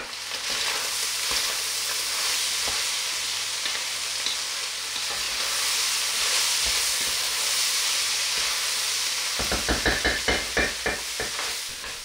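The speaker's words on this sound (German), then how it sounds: "Wir braten das Ganze so richtig gut an, damit sich auch Röstaromen bilden" Fresh chopped garlic added to a bolognese ragù hits a hot pan: a steady, loud frying sizzle and hiss, ending in several rapid scraping stirs of the spoon against the pan.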